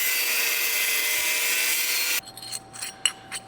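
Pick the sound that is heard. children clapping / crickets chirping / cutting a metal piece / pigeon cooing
cutting a metal piece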